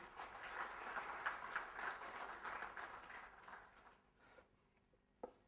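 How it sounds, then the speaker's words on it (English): A fairly quiet round of audience applause for a woman volunteer at a talk, steady clapping for about four seconds that then thins and fades, with one sharp sound near the end. "Can we have a big round of applause for the lady, please?"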